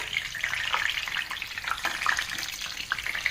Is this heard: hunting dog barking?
no